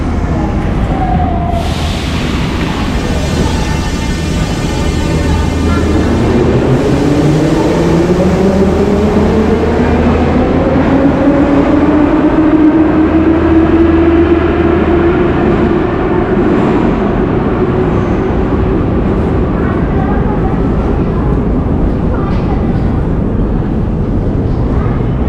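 A metro train moves through a very deep station of the Tbilisi metro, its loud steady rumble filling the space with a rising, falling whine as it runs in and slows, with no talk over it.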